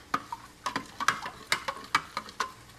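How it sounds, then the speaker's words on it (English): A spoon stirs vegetable broth in a pan for turkey Salisbury steak, clinking against the pan in about a dozen sharp, irregular taps over a soft background, with no talk. "So just stirring that up."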